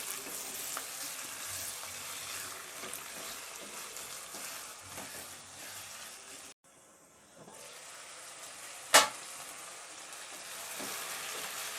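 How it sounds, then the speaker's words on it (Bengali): Pork fries in hot oil with a constant close hiss and sizzle while it is stirred. The sizzle drops out briefly, then returns, and one sharp clack of the utensil sounds against the pan. "মাংসটা একটু ভালো করে নাড়িয়ে নেব এইভাবে।"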